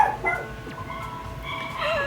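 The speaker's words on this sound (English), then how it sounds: "Sorry for the barking outside." Outside, a dog gives a few scattered barks and yips at moderate distance, with a slightly louder bark near the end.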